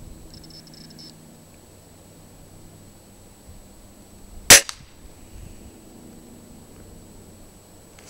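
A Beeman dual caliber air rifle fires a single sharp shot from its .17 caliber barrel while being sighted in from a homemade bag rest. The crack is close and stands out against quiet outdoor background noise.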